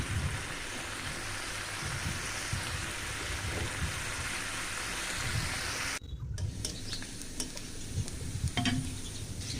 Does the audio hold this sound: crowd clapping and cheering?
no